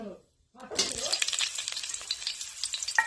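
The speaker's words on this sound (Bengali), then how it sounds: "এখানে দিলাম তেজপাতা অল্প এটা লাল লাল হয়ে গেলে এতে দিয়ে দিব পেঁয়াজ কুচি আর জিরে" Bay leaf, chopped onion and cumin dropped into hot oil, bursting from near silence into a loud, crackling sizzle that keeps popping steadily at close range, with a brief scrape near the end.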